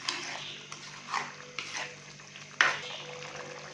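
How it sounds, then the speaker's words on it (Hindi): Goat intestine (ojhri) being stirred and fried in cooking oil, with a soft steady sizzle broken by a few scraping stirs and one sharper clatter, close and fairly quiet. "कुकिंग ऑयल डालने के बाद अच्छे से हम इसको मिक्स करेंगे और इसकी अच्छी तरह से भुनाई कर लेंगे"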